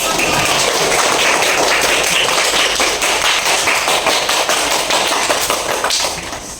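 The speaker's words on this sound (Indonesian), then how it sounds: "tepuk tangan untuk kelompok" A classroom group claps for a student team during a teaching-practice session, the dense, crackling patter of many hands running steadily for several seconds before tapering off at the end.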